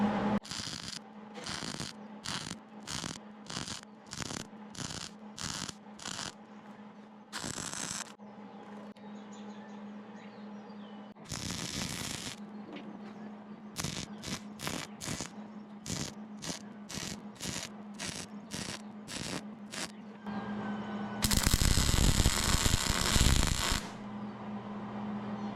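A new cutting edge is stitch-welded onto a skid steer bucket, with repeated short crackling arc bursts over a steady electrical hum and one longer, harsher burst toward the end.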